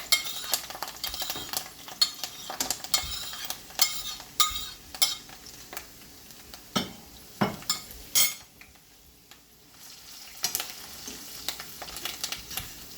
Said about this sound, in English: So now I'm going to fry my seasoning